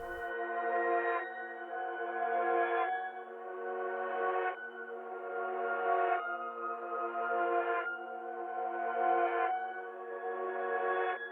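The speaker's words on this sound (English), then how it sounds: "something that we can also do to the intro is actually reverse this piano too" Reversed piano intro for a UK drill beat built in FL Studio: swelling backwards piano chords that fade in and cut off abruptly, repeating in an even rhythm across several bars, clean and alone.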